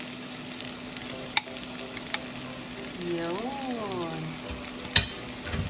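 Tofu (tokwa) for sisig frying in a pan, a soft, steady sizzle with occasional clinks of stirring, while a person briefly speaks and hums nearby.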